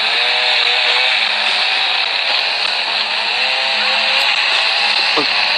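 A chainsaw in an office horror video game drones loudly and continuously with a high whine, its pitch wavering slightly throughout.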